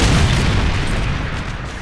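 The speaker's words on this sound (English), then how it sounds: "Friendly Predator missile inbound." A Predator missile in Call of Duty hardcore search and destroy hits with a loud, deep boom that rolls into a dense, rumbling roar, fading only slightly over two seconds.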